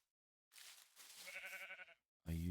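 Two bleats from a sheep in the video game Minecraft, a wavering nasal cry followed by a short pause and a louder, lower bleat cut off at the end, heard alone without talk.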